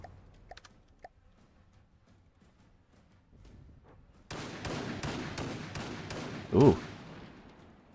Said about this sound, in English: 90mm cannon turret